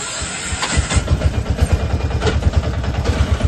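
An auto rickshaw engine running just after a gear cable replacement, a loud close putter with rapid, even pulses and a rough mechanical rattle.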